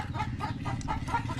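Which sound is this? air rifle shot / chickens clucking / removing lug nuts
chickens clucking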